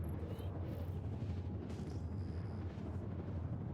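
Spaceship dogfight combat in the video game Star Citizen, flying an Esperia Talon, with a steady dense rumble of engines and weapon fire, continuous and fairly loud throughout.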